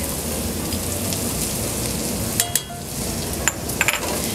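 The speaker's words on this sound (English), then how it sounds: "You want to constantly stir this so that it doesn't burn" Minced garlic with sweated, translucent onions sizzles in a pan for a rustic tomato sauce, a dense crackling hiss broken late by a few sharp clinks and scrapes of stirring, close-up with no talking.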